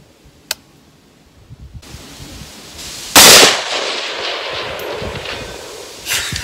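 An AR pistol fitted with a Riton 1-8 scope fires outdoors at a 500-yard target: a faint early crack, then a loud sharp report that rings out into a long rolling echo and wind noise.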